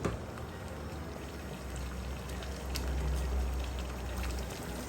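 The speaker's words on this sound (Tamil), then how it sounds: "இதில் கொஞ்சம் நான் தண்ணி போட்டுக்கிறேன்." Water is poured into a cooking pan while a palak butter chicken dish simmers, a steady, moderately loud liquid pour that builds slightly toward the middle and continues for several seconds with no talk.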